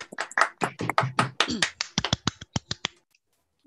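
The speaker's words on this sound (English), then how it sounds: "Let's have another round of applause." A few scattered handclaps at a digital preservation awards ceremony, sharp and separate, running for about a second right after a stretch of speech, then silence.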